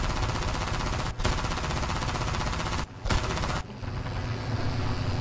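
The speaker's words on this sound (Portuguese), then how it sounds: "BF tá atirando nele." Sustained machine-gun bursts in a Battlefield-style shooter video game, loud and continuous, cut by two brief gaps before a final burst.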